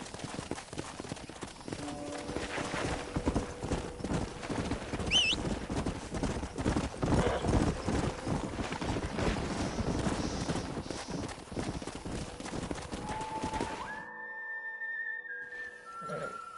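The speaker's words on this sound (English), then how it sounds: "We got some fine horses." Horse hooves clip-clop in Red Dead Redemption, a steady rapid rhythm of hoofbeats under wind and game ambience for about fourteen seconds, with faint tonal game sounds near the end after the hoofbeats stop.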